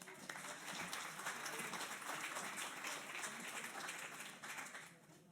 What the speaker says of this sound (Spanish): Un aplauso para Lucas